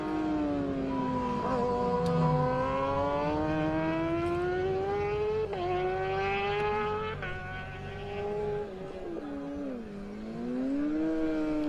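A racing machine at the Senior Manx Grand Prix screams past on the road course, its engine note rising steadily then dipping as it passes, loud and close, with brief gear-change breaks and no voices.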